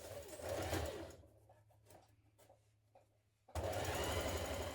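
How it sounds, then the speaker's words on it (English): A sewing machine stitches down a dress toward the hem, a close, steady run at the start, a quieter stretch with small clicks while the fabric is handled, then a loud resumed run. "Carry on sewing down to the bottom of your hem."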